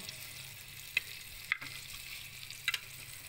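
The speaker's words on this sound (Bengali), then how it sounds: "প্রায় 150 ডিগ্রি সেলসিয়াস তাপমাত্রায় মাছ ভাজি এখানে গরম হয়েছে" Fish frying in a pan heated to about 150 °C under intense heat: a steady low sizzle runs throughout, with a few sharp crackles and pops breaking through, close by and with no talk.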